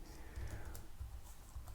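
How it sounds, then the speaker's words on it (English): Faint clicks come from computer keyboard arrow keys and the enter key, a few soft, irregular presses over a low background hum. "We can select it by using the arrow keys and the enter key."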